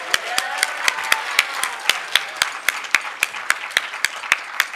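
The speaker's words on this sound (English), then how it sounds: "Can we give them another round of applause?" A small audience claps in a sparse, fairly regular rhythm, individual sharp hand claps standing out about every quarter second against a softer background patter.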